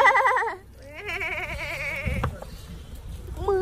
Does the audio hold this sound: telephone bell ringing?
no